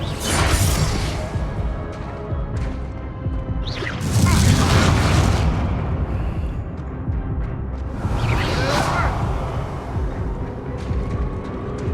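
Spell blasts and explosions from Hogwarts Legacy: several heavy booming impacts with whooshing bursts, loud and dense, following one another in a steady battle din.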